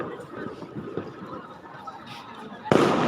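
Sharp Diwali firecracker bursts crackle in the distance near the Hanuman temple at Salangpur, under a steady outdoor murmur, with a louder burst near the end.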